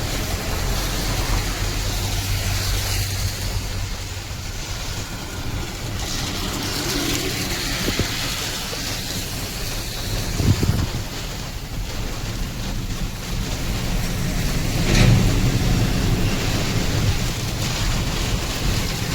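Strong storm wind blows with rain, a continuous broad roar that buffets the microphone in a few heavier gusts, and no one speaks.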